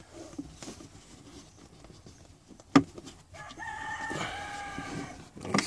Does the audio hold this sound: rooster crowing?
yes